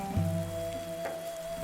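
Steady rain hiss from the video game Dead in Vinland, with a continuous wash of drops, a low hum, and a few soft thuds spread through.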